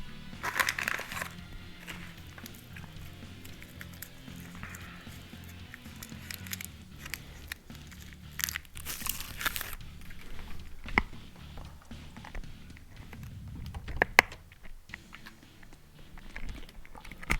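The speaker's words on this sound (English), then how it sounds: "You're gonna hear crunching." Crunching sounds from the video game Tales of Berseria, a run of repeated crisp crunches and crackles over a low, steady game background, with a few sharper snaps near the end.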